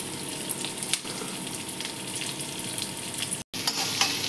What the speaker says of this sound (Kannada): ಈರುಳ್ಳಿ, ಇದನ್ನ ಫ್ರೈ ಮಾಡ್ಕೊತಾ ಇದ್ದೀನಿ.